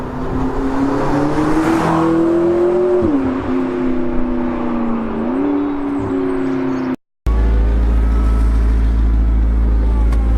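A McLaren 650S Spider drives with a loud, droning engine note that rises and falls through gear changes, heard close from inside the open-top car, then cuts briefly before resuming with a deeper, steady rumble.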